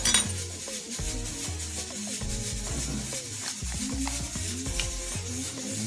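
Cookie dough being mixed in a bowl, a steady scraping and stirring with soft clinks of a utensil against the dish, quiet and continuous, with no talking.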